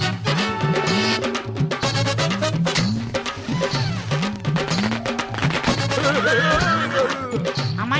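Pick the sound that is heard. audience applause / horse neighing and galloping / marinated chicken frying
horse neighing and galloping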